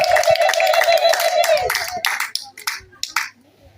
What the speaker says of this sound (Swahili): Hebu jipongeze kwa makofi.